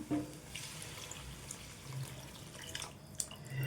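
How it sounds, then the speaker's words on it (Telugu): Water is poured over cut brinjal pieces in a pot for a lentil curry, a soft, faint splashing trickle running steadily for a few seconds with a few brief clinks. "ఈ వంకాయ ముక్కలు ములిగేంత వరకు వాటర్ వేసుకుందాం"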